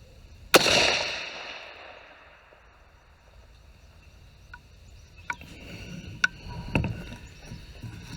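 A single sharp, loud rifle shot from a Bear Creek Arsenal 350 Legend rifle fired outdoors, with a long decaying echo, followed by quieter clicks and handling noises over insect chirping.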